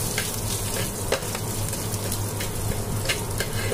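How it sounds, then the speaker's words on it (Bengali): Garlic, nigella seeds and two dried red chillies fry in mustard oil as a tempering, giving a close, busy sizzle with crackling pops and occasional stirring. "কালিজিরা দুইটা শুকনো মরিচ দিয়ে দিয়েছি, ভালো করে লাল করে ভেজে নেব"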